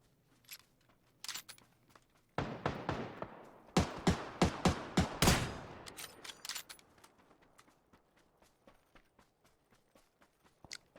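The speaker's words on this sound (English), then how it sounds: "Is that my teammates shooting?" Rapid gunfire in a video game: a dense run of sharp shots in a quick rhythm, followed by sparser clicks and ticks as things settle, fairly close and without talk.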